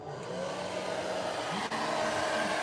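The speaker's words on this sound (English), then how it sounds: "It's just the do-it-yourself stand dryer." A do-it-yourself stand dryer blows steadily during cat grooming, a continuous airy whoosh with a faint motor whine, briefly dipping once before resuming at an even, moderate level.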